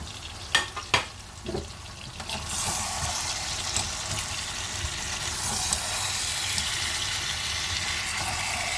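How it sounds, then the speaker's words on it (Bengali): Fried chicken and potatoes stirred into a spice masala for a Bihari-style chicken curry. A few sharp clatters open the clip, then a steady loud sizzle of frying continues alone. "এইভাবে ভালোভাবে মশলার সাথে বেশ খানিকক্ষণ কষিয়ে নিতে হবে"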